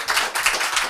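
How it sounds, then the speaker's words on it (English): A live podcast launch audience gives a brief round of applause for a performer, a short burst of dense, close clapping from a crowd. "Big round of applause for Sam."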